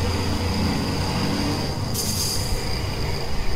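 A steady, loud truck engine rumble in Euro Truck Simulator 2 after a missed gear shift, broad mechanical noise throughout, a hiss rising partway through, continuous without pauses.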